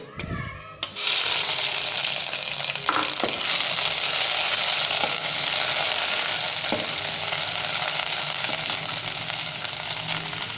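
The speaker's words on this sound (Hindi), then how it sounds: "और दोस्तों इसे हम 1 से 2 मिनट तक फ्राई करेंगे, लाइट गोल्डन ब्राउन होने तक" Steady loud sizzling of ginger garlic paste frying in hot ghee, a continuous crackling hiss with a few soft stirring knocks.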